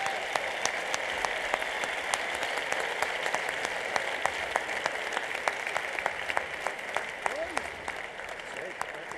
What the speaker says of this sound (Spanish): Un aplauso para Fernando Esteso y Xavi del Tel